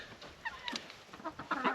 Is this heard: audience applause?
no